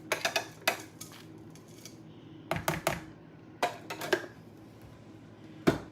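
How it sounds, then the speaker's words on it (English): A utensil folds chopped pecans into Louisiana swamp cake batter in a bowl, making sharp clicks and scrapes against the bowl that come in short bursts separated by quieter stretches, with no voice. "I want to fold in my 1 cup of chopped pecans."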